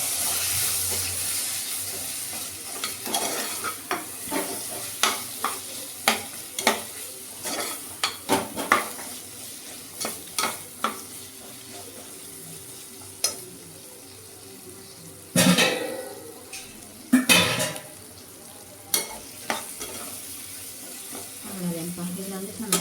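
Soya gravy with pulses sautéing in oil in a pan: a spoon scrapes and clacks against the metal in uneven strokes over a soft sizzle, with a few louder clatters partway through.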